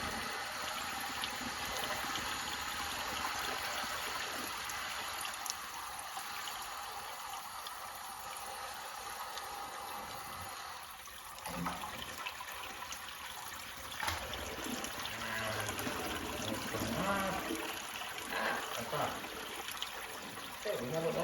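Water drains from an aquarium hose into a bucket, a continuous trickle and splash beneath a hiss, with some shifting gurgles partway through.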